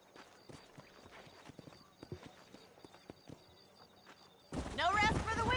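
Hooves of horses in Red Dead Redemption clip-clop in a quick trotting rhythm, fairly faint, before a voice cuts in loudly near the end.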